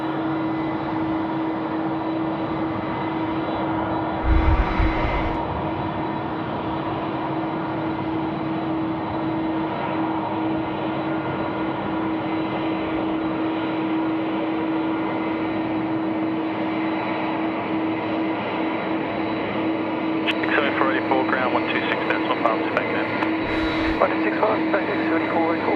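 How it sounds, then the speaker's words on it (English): A BA146 jet airliner that has just landed at Sydney Airport at night rumbles with a steady, droning engine roar, heard from the control tower with a voice talking over it. "That's the BA146 that's just come in"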